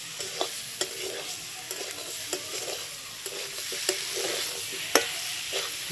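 Spice masala with potatoes stir-fried in a pan for a fish-bone chorchori with bhetki, a steady sizzle with repeated scraping spatula clicks, close and alone.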